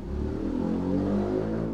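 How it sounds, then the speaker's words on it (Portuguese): A loud motorcycle passing by in the distance, heard as a steady, droning engine rumble that swells and fades slightly, with no voices over it. "Passou uma moto barulhenta aqui."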